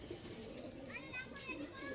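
Pet pigeons being fed and watered coo softly in short bursts, alongside a few higher bird calls, under a voice talking.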